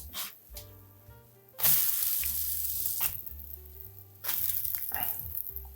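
Pumpkin spice protein pancakes sizzle steadily in a hot pan just after flipping, a bright crackling hiss that swells in bursts over soft background music.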